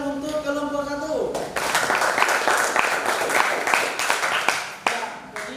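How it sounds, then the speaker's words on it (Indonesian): A classroom group claps for the first student team after its presentation, a dense spread of hand claps following a brief voice, steady and fairly loud before tapering. "tepuk tangan untuk kelompok 1."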